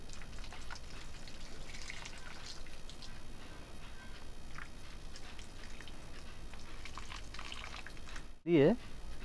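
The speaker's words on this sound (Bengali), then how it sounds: "এরপরে এটাকে ভালো করে একটু জল দিয়ে দিতে হবে।" Water is poured over the soil of a potted rose plant freshly dosed with mixed fertilizer, a soft, steady trickling wash that runs continuously and fairly faint, with a brief sharp knock near the end.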